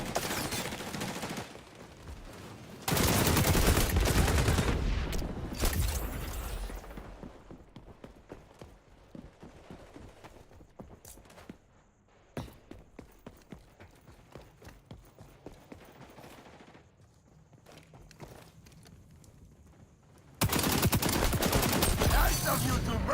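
Bursts of rapid automatic gunfire from the shooter video game XDefiant, loud sustained volleys at the start and end with sparser shots, footsteps and game sounds between.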